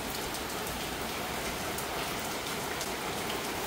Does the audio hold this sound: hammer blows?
no